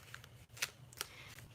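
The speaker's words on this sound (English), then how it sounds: "I'm gonna keep shuffling." Playing cards, hand-painted Moon cards, are shuffled softly up close, a couple of quick riffling snaps against a faint background hum.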